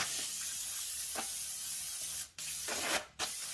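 A steady aerosol hiss from a can of brake cleaner sprays continuously up close onto brake pads and rotors of a 2007–2013 Chevy Silverado, broken by two brief pauses.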